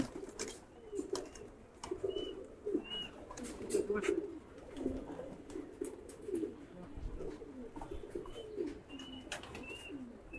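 Pet pigeons cooing near a rooftop bamboo perch, soft repeated low coos with occasional chirps and wing flutters, moderately close and fairly quiet, no speech.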